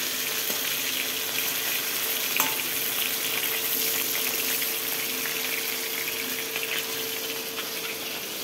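Oil spattering in a hot pan while food fries in a home kitchen in the Sundarbans, a steady close hiss and crackle running throughout, with one sharper pop partway through and no talking.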